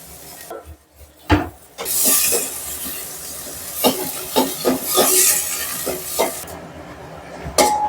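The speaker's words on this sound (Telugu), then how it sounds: "జీలకర్ర ఆనియన్ ఒక చిన్న సైజు ఉల్లిగడ్డ బ్రౌన్ కలర్ వచ్చే వరకు ఫ్రై చేసుకోవాలి" Cumin and a small onion fry in a pan, giving a loud hiss and sizzle that swells and fades, broken by sharp clinks and scraping knocks of stirring, close by.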